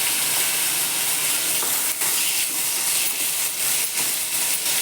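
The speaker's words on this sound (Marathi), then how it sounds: "तूप तापलं बघा त्यात ह्या फोडी घालते मी ह्यात दुसरं काहीच घालायचं नाही फोडी चांगल्या तुपात परतून घ्यायचं" Sweet potato pieces sauté in hot ghee, a loud, continuous close sizzling hiss with faint stirring knocks, no voice over it.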